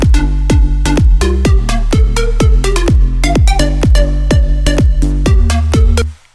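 Future bass style synth drop built in Alchemy, loud plucked chord stabs with deep bass hits in a quick syncopated rhythm, ending abruptly.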